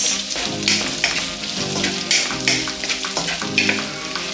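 Large-cut vegetables for fried rice sizzle in a hot pan while being stirred, with a steady frying hiss and recurring scraping strokes, close and fairly loud, with no talk.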